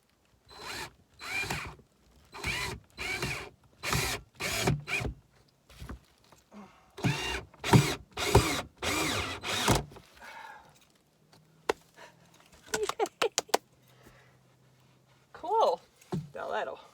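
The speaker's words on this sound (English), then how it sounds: "One more hole in the fiberglass." A power drill bores a hole through fiberglass inside a small 13 ft Scamp camper in a series of loud, close whirring bursts, then falls quiet while a person speaks and brief clicks and taps follow.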